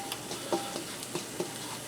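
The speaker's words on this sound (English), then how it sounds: "I'm going to stir that around well to incorporate the flour into the butter." Flour and butter roux with onions is stirred in a pan on low heat, a faint soft sizzle broken by a few light scraping clicks from the spoon.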